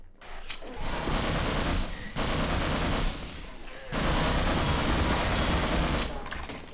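Rapid automatic gunfire from a weapon in the video game Half-Life, loud sustained bursts broken by brief pauses, with a faint voice underneath.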